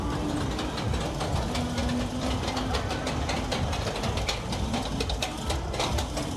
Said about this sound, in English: Got the children's caterpillar coaster.